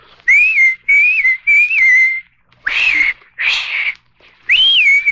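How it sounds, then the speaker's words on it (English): Six bright human whistled notes in a sliding melodic phrase, loud and close, with short pauses between them and no talking. "just whistle like this."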